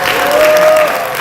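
Loud, dense audience applause fills a hall at a book concert and launch event, a steady burst of clapping with a faint tonal whistle running through the middle.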